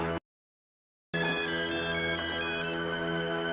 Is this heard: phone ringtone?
yes